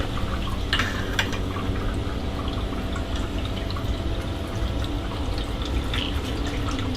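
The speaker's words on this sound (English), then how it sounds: "Oh, I hear the pump. It's filling it up." A garden pump fills a container with water, giving a steady running, trickling flow with dripping splashes close by, continuous throughout with no talking.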